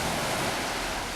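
Waves rush and break continuously at a rocky scuba dive entry site beside a ramp, a dense, steady wash of surf with some wind buffeting the microphone and no talking.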